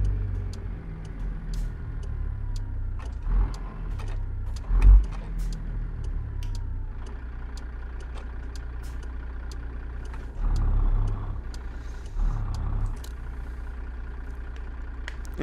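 Kenworth W900L truck, a 1999 workhorse model in American Truck Simulator, droning steadily with a low engine rumble throughout, with a few brief louder bumps along the way and no talk.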